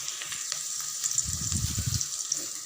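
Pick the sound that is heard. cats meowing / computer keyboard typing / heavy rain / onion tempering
onion tempering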